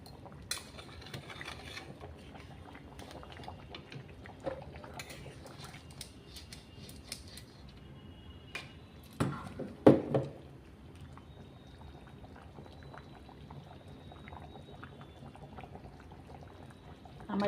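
A light chicken curry boils in a pot about to be covered, giving a faint, steady bubbling, with a brief clatter of a lid or utensil partway through.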